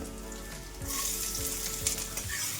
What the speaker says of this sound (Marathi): फुल गॅसवरती कांदा छान असा तांबूस रंगावरती परतून घ्यायचा आहे